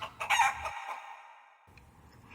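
A storybook hen named Hattie gives a single loud, drawn-out bird call with a crowing, rooster-like quality, followed by a quieter tail, heard alone.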